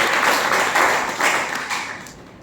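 An audience clapping together at a talk, a dense wash of applause that swells in a few waves and then tapers off toward the end.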